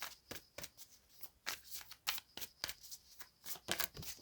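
A deck of cards being shuffled by hand, a rapid series of crisp riffling bursts in an irregular rhythm, close and fairly quiet with no talking.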